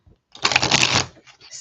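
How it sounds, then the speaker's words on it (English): Playing cards are shuffled by hand in a ruffle and Vegas shuffle, giving one close, dense burst of rapid riffling clicks that lasts under a second. A few faint card taps come after it. "I do a ruffle shuffle, Vegas shuffle. Then I do this kind of shuffle."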